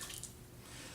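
Water dripping and trickling as a cup is lifted out of a container of water, brief and close with soft splashy drips, no talking.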